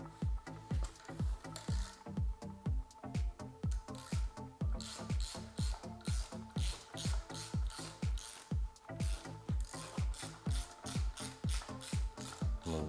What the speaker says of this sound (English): I'm just gonna remove the factory bolts, factory bracket here.